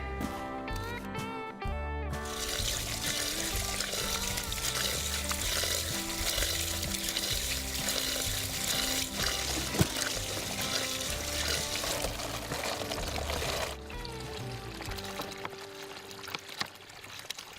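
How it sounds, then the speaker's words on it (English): Spring water gushes steadily out of an Alaskan hillside, a continuous close pouring and splashing rush that carries on without a break, with no one speaking. "This spring, which is coming out of the side of the hill, provides me with water year-round, both in summer and winter"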